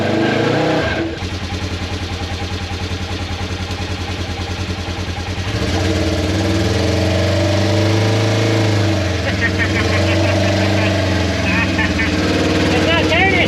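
Engine of a 4x4 vehicle with a Hemi running loudly and steadily close by while one tire spins, the pitch rising midway, with people talking over it.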